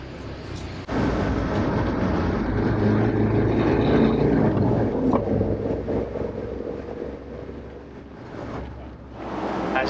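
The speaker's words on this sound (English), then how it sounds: "we are having fun driving the Defender through these nice roads that we always test the cars" Land Rover Defender 90 driving on a road, a steady loud engine and road rumble that starts abruptly and holds for several seconds before easing slightly.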